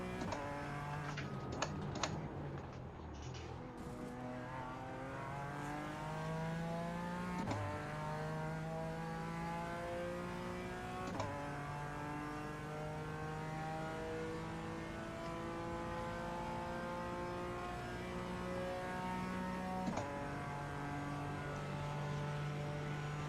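A McLaren race car in a simulated Daytona 24-hour race holds a steady, high engine drone, its pitch climbing through the gears with a few sharp shifts, loud and continuous with no voices.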